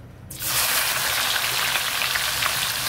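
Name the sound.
frying anchovies with young galangal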